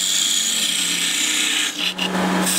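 Parting tool cutting into a wooden turning on a lathe, a steady broadband scraping hiss over the machine's hum, close and continuous, with a brief dip near the end.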